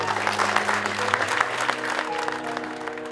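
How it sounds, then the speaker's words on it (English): An audience applauds military service members, a dense, steady wash of clapping that holds at an even level throughout, with a low hum beneath and no speech over it. "Anyways, big round of applause"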